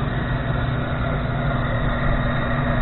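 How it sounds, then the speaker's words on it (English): An inducer motor on an LP gas furnace hums steadily at close range, a continuous low mechanical drone with a constant tone and no talking. "Inducer motor kicks on."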